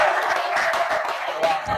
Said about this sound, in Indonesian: semuanya beri tepuk tangan untuk diri kita sendiri